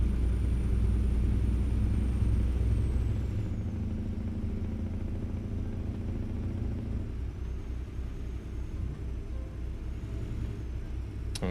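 A car approaching in a video game, a loud rumbling engine drone that holds steady, then shifts and eases slightly as it nears, with no talk over it.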